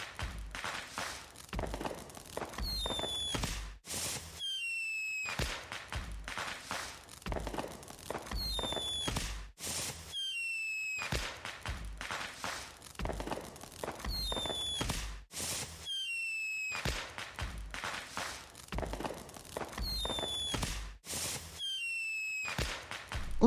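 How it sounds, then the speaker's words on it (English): Fourth of July fireworks burst over and over in a repeating cycle of cracks and thumps, with whistling rising trails between sharp pops and brief silent gaps, moderately distant and no talking. "Look at all these fireworks."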